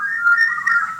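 A sustained, wavering high whistle held steadily for about a second, loud and close, with faint rumbling underneath.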